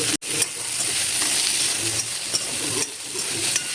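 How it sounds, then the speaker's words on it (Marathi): Okra with lemon juice and salt fries over high heat in a pan, giving a continuous close sizzle with spoon scrapes and stirring knocks, briefly interrupted near the start. "आता मी हे ना चांगलं भाजून घेणार आहे भेंडी आहे ना"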